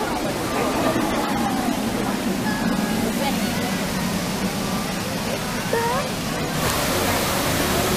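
Steady rushing water at Gully Washer Creek, a lazy river at Six Flags St. Louis Hurricane Harbor water park, a constant broadband wash with faint crowd voices and brief chirps over it.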